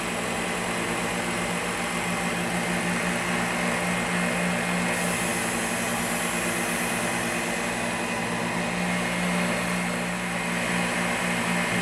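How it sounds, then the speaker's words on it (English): A belt sander with a fine grit belt runs steadily as it grinds the pommel of a Buck 118 Personal knife, making a continuous, even motor whine with a constant abrasive hiss. "Let's clean up that pommel some more with this fine grit belt."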